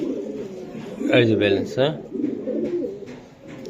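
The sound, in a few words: racing pigeon cooing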